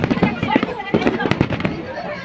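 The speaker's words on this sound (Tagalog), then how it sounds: "may pa-fireworks sila dyan" Fireworks at Global Village, Dubai pop and crackle in a quick series of sharp bursts at moderate distance, mixed with people talking and crowd noise.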